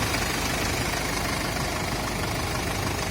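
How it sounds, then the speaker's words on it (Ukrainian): A refrigerated Mercedes-Benz Sprinter van's engine idles with a steady, even rumble that runs unbroken throughout. "Працює моторчик, як на новій машині."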